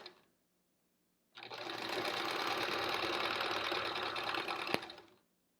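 Sewing machine piecing Triangle Tango quilt blocks: after a brief click and silence it runs at a steady, fast, whirring stitch for about four seconds, with a small clunk near the end before stopping. Close by and fairly quiet.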